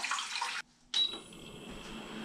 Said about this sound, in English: I'm gonna put water in here